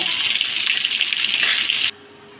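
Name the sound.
whole rui fish frying in oil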